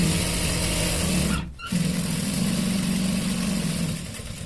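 A sewing machine stitching slowly around the curve of a shirt, running as a loud, steady motor hum with one short pause partway through before it picks up again.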